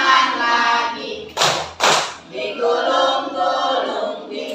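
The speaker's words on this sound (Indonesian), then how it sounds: "tepuk tangan lagi." Children clap along during a song, a couple of sharp hand claps standing out between stretches of singing voices.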